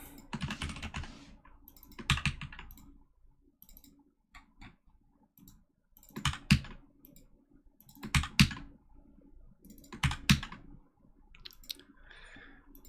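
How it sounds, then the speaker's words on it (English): Someone types on a Discord mechanical keyboard in bursts of clicky keystrokes, some loud, with brief pauses between flurries and no talking. "The Discord keyboard is the one that I use."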